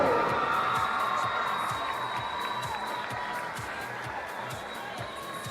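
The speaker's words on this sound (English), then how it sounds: "Another round of applause for your top 8 ladies in the women's 3-meter diving" Sustained crowd applause with scattered cheers and whoops for the women's 3-meter diving medalists at a swimming and diving championship, a broad, steady roar of clapping in a large venue that slowly fades.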